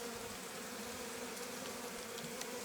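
Honeybees drone in a steady, faint, continuous hum during a spring beehive inspection, with no voices.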